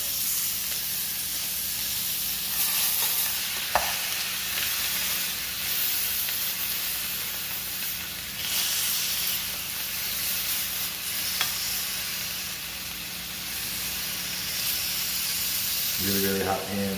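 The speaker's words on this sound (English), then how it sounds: "Okay, so now we've seared our ossobuco" Ossobuco sears in a very hot pan with a steady, close sizzle and hiss, a few sharp clatters and scrapes breaking through the frying.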